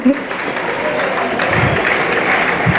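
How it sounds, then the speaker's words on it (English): A graduation audience claps for a cohort standing in the room, a dense, even round of applause lasting the whole short stretch. "Let's give them the applause."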